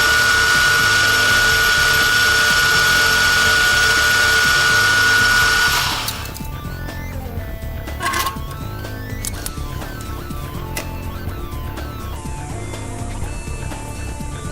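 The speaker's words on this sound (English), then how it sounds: "start polishing the surface of the aluminium" Aluminium surface of a BLOCART wheel being polished to a mirror finish with a cloth: a loud, steady whining rub for about six seconds, then it drops to quieter, intermittent scraping and clicks.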